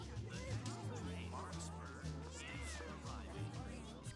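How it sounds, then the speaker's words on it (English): Several cat meows from the video game Tales of Xillia 2 rise and fall over its musical soundtrack, moderately loud and close, repeating every second or so. "Oh, I hear you, Cat."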